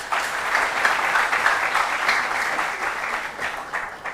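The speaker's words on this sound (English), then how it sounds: "A round of applause for them, please" A burst of steady audience applause at a school quiz competition, fairly loud and continuous, tapering slightly toward the end with no talk over it.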